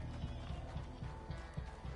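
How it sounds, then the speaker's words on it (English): Horse in the video game Red Dead Online, a rhythmic run of hoofbeat thuds repeating steadily at close range, with a busy game soundscape continuing underneath. "Horse."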